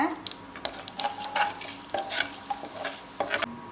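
Bay leaf, black cardamom, kalpasi, cloves and fennel being stirred in hot oil: a continuous close sizzle broken by frequent quick spoon scrapes and clicks against the pan, no voices.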